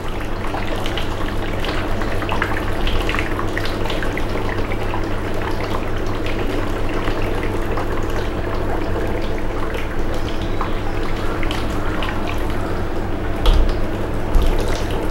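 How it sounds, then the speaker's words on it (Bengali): Water lifted by a small 12 V DC solar pump pours and splashes steadily and close by, a constant wet rushing with a low motor hum underneath, running unbroken with no talking. "পানিটা কিন্তু উঠছে, এবং আপনারা লক্ষ্য করছেন যে পানিটা কিন্তু একেবারে কম উঠছে না, বেশ ভালো পানি উঠছে"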